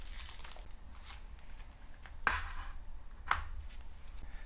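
A small resealable plastic bag holding a gold bullion bar crinkles softly near the mic, with two sharper rustling bursts as the bar is taken out over low background noise.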